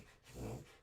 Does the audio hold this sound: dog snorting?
yes